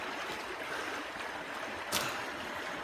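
River water in flood rushing steadily at a river mouth, a continuous broadband wash heard close and fairly loud, with one brief louder splash near the end.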